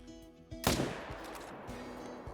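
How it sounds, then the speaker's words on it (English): A 300 Magnum rifle fires at a cape buffalo in a hunting video game: one sharp, loud shot cracks out after a quiet moment, then rolls into a long fading echo with a few faint thumps. "Let's line up with the 300 Magnum. Try to get a good shot in here."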